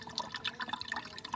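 Mineral water drips and trickles into a catch container during a coolant check on a Hyundai Accent CRDi. The patter is faint, close and irregular, with no talk.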